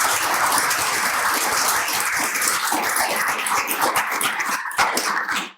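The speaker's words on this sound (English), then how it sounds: "So I'll give them a round of applause." Audience applause at the close of a global health seminar panel, dense sustained clapping from a crowd at full volume for about five seconds before cutting off abruptly.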